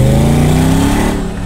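A supercharged Mercedes G55 AMG accelerates with a loud, close, rising engine note that climbs steadily in pitch over a brief moment.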